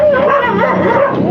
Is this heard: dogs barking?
yes